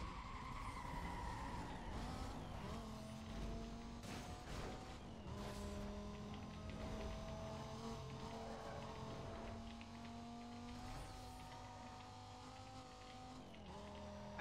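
Race cars in the Need for Speed Most Wanted video game screech and skid, tire squeals rising and bending over a continuous engine roar, with dense overlapping scraping bursts early on.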